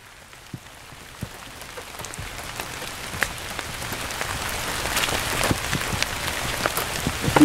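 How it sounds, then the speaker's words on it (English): Steady rain falls outdoors at a wet rifle test range, a continuous hiss dotted with distinct, close drips and droplet hits that grow slightly denser over time, with no talking. "So it's wet, it's raining, we're set up."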